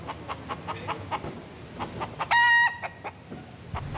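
A free-roaming rooster crows once in Key West, a loud, close, strained cock-a-doodle-doo lasting under half a second, set among a steady run of softer rhythmic clucks from nearby fowl.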